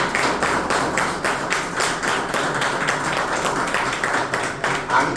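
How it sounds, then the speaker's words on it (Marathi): An audience claps for a speaker in a steady, continuous round of applause with rhythmic individual claps, moderately loud throughout. "यासाठी तुम्हाला सरांसाठी सगळ्यांनी टाळ्या वाजवा."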